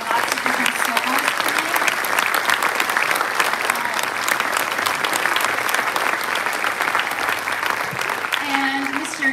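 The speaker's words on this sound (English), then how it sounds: "let's give them one more round of applause" An audience at a middle and high school Christmas concert gives soloists a sustained round of applause, a thick continuous wash of clapping from a full room, with voices mixed in beneath it.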